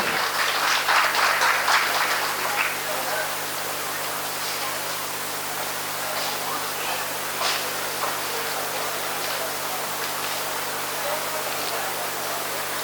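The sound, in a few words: applause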